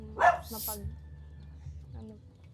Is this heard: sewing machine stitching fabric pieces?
no